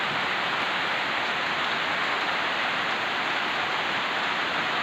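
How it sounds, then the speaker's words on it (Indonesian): Heavy rain pours down steadily over a road in Kumpeh, Muaro Jambi, a dense continuous hiss with no breaks and no voices throughout. "Hujannya sangat deras sekali dan membasahi jalan. Dan sekarang masih hujan tetap berlanjut."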